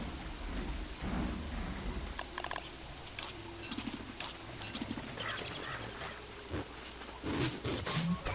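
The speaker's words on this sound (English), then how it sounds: "I hate the rain." Steady rain falls in a PS4 game, with rumbling thunder rolling through at moderate loudness and sharper crackles scattered across the continuous downpour.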